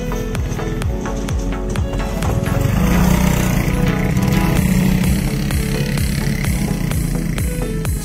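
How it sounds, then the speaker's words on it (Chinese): A motorcycle rides across an iron bridge, its engine droning loudly and continuously up close, with rattling, clanking knocks from the metal deck mixed in throughout. "现在有人骑摩托车过来了啊，他已经成功过来了啊"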